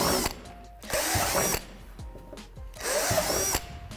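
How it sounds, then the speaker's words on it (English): A power drill boring holes into a plastic swing-set slide during assembly, two sustained whirring bursts separated by a pause with small clicks and handling noises, close and fairly loud. "Flip the slide over and drill 3 holes at the top of the slide."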